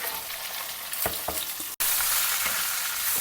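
Washed, chopped okra (bhindi) hits a pan of dals frying to light golden brown, setting off a loud, steady sizzle with a sharp clatter partway through and bursts of stirring.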